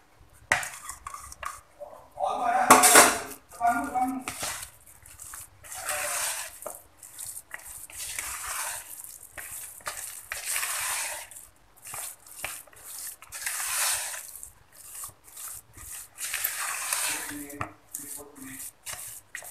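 Date cookie dough stirred with a spatula in a bowl, repeated soft scraping and rubbing strokes with occasional knocks against the bowl, close and uneven, no speech.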